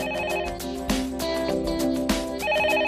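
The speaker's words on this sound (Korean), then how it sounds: "사무실로 전화 한 통이 걸려왔다" An office telephone rings with an incoming call, a close, repeating electronic ring pattern with tonal bursts and brief gaps, no voices.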